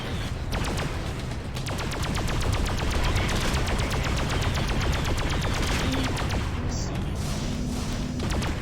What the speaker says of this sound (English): they keep firing missiles off into the middle of nowhere